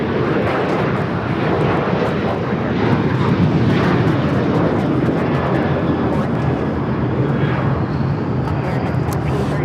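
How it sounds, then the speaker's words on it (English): An American Airlines Boeing 737-800 bound for Indianapolis roars down the runway and climbs out at Los Angeles airport, a loud sustained jet-engine rumble and whine that holds steady throughout, with no one speaking. "1437 taking off to Indianapolis on the 737-800"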